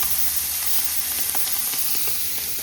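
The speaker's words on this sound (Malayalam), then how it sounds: "അപ്പോൾ നമ്മൾ മീൻ ഇങ്ങനെ പൊരിച്ചിട്ട് കേട്ടോ." Fish frying in a pan gives off a steady, close sizzle with a constant bright hiss, while small crackles and pops break through it now and then.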